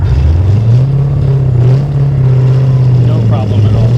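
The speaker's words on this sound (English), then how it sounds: "It's sitting at idle after driving it. That needle is not moving. I can hear the fans running." An LS2 V8-swapped Datsun 280Z sits idling after a drive with its cooling fans running, giving a loud, steady low engine rumble with a constant whirring layer underneath while someone talks over it.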